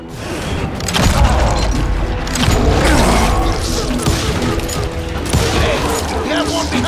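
Gunfire from a Wild West shootout in Call of Juarez: Gunslinger, with repeated loud shots and booming blasts layered over a dense battle din, crackling steadily throughout with no pauses.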